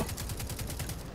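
A short run of rapid game gunfire in Destiny 2, evenly spaced shots in a quick rhythm, fairly quiet and heard on its own.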